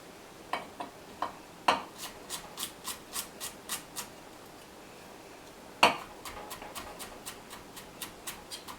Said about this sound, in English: And then we're going to mince the garlic.